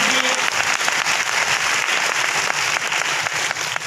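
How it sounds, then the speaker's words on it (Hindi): An audience at a business meeting breaks into dense, sustained applause, a loud even wash of many hands clapping with no talk over it. "उस विषय में पहले आप सब आपके लिए तालियां दे दीजिए"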